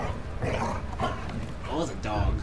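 A dog barks and yelps in The Casting of Frank Stone horror game, with a few short calls scattered across the moment and people talking over them.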